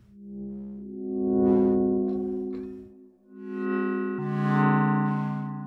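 FM synthesis tones from an Empress ZOIA, with a metallic, buzzy edge from an oscillator modulating the carrier, holding sustained pitches that shift a few times, fairly loud, with no voice.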